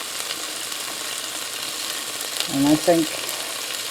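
Sliced leeks hissing and sizzling in hot oil in a Cosori multi cooker, a steady close frying crackle throughout with a brief stir partway through and a short spoken remark over it.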